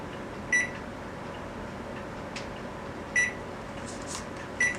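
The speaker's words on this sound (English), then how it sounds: "I'm going to set my kitchen timer for 1 more minute." A kitchen timer being set before frying chicken gives three short, sharp electronic beeps spaced a few seconds apart, standing out clearly over a steady low kitchen hum.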